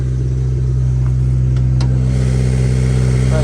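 A Honda S2000 that has sat for two years idles steadily with a small exhaust leak from a missing bolt, giving a constant close rumble with a faint ticking edge and no talk.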